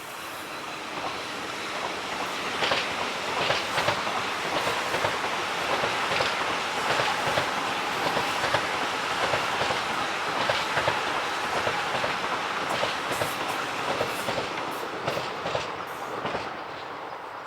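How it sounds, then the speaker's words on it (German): An ICE high-speed train passes through a station, a loud sustained rumble with rhythmic wheel clatter and some squealing over the full stretch, close by and with no voices. "Das hier könnte der ICE 598 von München über Stuttgart, Frankfurt nach Berlin sein."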